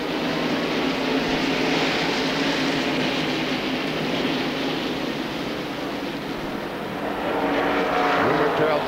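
NASCAR race cars roar away at the start of the 1993 Pepsi 400 at Daytona, a dense, continuous wall of engine noise with a commentator's voice faintly underneath.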